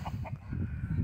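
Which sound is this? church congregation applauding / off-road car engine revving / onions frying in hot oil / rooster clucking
rooster clucking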